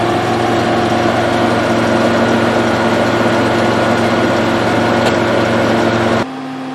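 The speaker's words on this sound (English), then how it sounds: "So today we're mowing down the sorghum." A mower engine runs loud and steady while cutting down a sorghum field, a constant droning hum that suddenly drops in level near the end.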